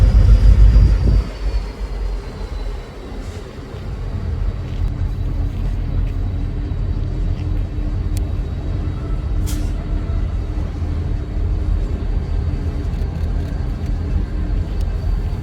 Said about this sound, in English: the crew eases back out onto the main line before coupling up with the rest of their train